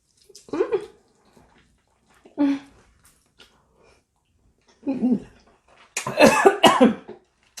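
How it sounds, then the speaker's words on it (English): Four loud, harsh coughing bursts separated by quiet pauses, the last a longer, rougher fit of several coughs in quick succession. "I have legit been coughing for 10 minutes."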